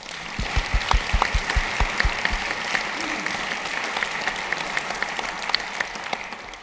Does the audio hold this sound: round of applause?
yes